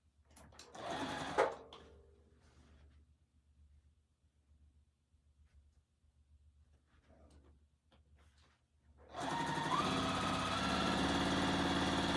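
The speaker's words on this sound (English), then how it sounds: "I'm going to sew these strips on to" A sewing machine stitching quilt strips: a brief whirring run at the start, a long near-silent pause, then a loud, steady, close-up hum of continuous stitching to the end, with no talking.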